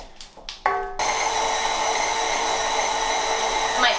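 After a few scraping knocks, a stand mixer with a paddle starts up mixing vegan chocolate chip cookie dough and runs as a steady, close whirring hum until the end.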